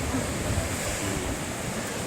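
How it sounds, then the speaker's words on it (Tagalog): Rough river waves surge on the Agos River at Infanta, Quezon. A steady, close wash of churning water and wind-like rush continues without a break. "Anda grabing balod oy"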